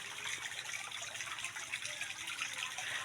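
Water gushes steadily into a blue mini pool at an elementary school, a continuous hissing pour heard fairly close at moderate level with no talk.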